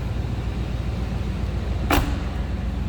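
A single solid thud of a 1995 GMC Sierra 1500 pickup truck door shutting near 2 seconds, heard against a steady low engine-like rumble.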